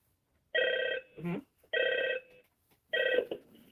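Telephone ringing in the horror video game Five Nights at Freddy's 2, three loud electronic rings with a pause and a short murmur between each, alone and close.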